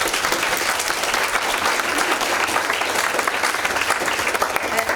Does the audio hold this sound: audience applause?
yes